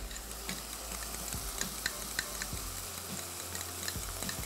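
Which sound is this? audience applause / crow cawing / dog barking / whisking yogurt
whisking yogurt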